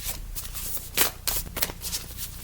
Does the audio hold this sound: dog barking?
no